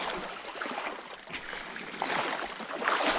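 Water drains and splashes out of a dirt bike's exhaust right after a creek crossing, heard as a close, steady watery hiss and trickle over a faint engine.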